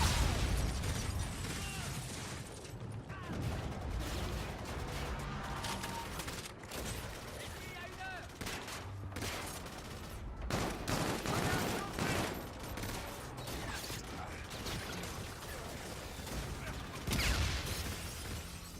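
Gunfire in a Call of Duty: Infinite Warfare multiplayer match, with dense bursts of automatic fire and impacts running throughout at a steady loud level, mixed with game effects and someone talking over it.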